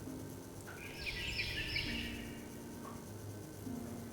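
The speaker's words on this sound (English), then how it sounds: "Suddenly, a loud chirping comes from outside the window" A brief burst of bird chirping comes from outside a window, a faint cluster of high twittering notes over a quiet indoor hum.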